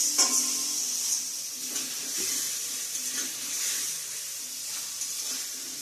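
Jackfruit dropped into fried spice paste sizzling in a pan, with a steady loud hiss and a few clinks and stirring scrapes of a utensil against the pan.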